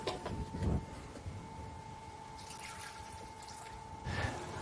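Water trickles and drips into a wide pot holding ground leaves, a thin steady pour with a faint hum in the background and a few louder splashes at the start and end.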